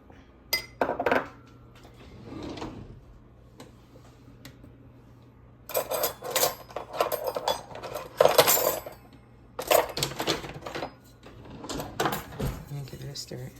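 A spoon clinks and scrapes against a pot while seasonings are stirred into cornbread dressing, in bursts of metallic clatter with quieter gaps between. Someone talks between the stirs.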